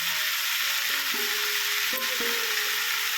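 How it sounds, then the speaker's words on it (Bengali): Turmeric is stirred into Bengali-style country chicken curry frying in a pan: a continuous sizzle with a few scraping spoon strokes against the pot, close and alone. "হলুদটা দিয়ে দিলাম মিশিয়ে দিচ্ছি"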